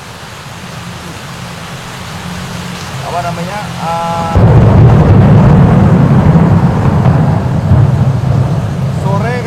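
Heavy rain in a thunderstorm, heard while fishing, becomes a loud steady roar with a deep rumbling swell partway through; a voice speaks briefly over it.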